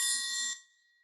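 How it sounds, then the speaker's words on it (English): A single bright metallic ring, like a struck triangle, shimmering for about half a second before being damped, leaving a faint lingering tone. "You also need a triangle."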